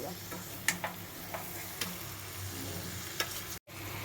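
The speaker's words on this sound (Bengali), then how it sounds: "এবার চিকেনের সাথে খুব সুন্দর করে মশলাটাকে কষিয়ে নেবে।" Chicken and spice paste are stir-fried together in a pan, making a soft, continuous sizzle broken by a few sharp spoon scrapes against the metal, with no talking.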